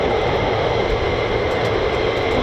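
A US Air Force military jet taxis out at an RAF airbase, its engine a loud, steady broadband roar that holds close and unbroken for a couple of seconds.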